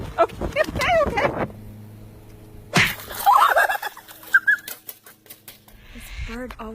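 A turkey gobbles in short bursts near a mailbox, loud and close, between stretches of excited talk and a quieter pause, with wing flaps and rustling mixed in.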